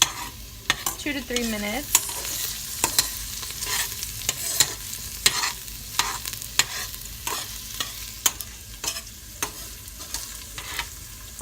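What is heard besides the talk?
stirring shredded beef ropa vieja in a frying pan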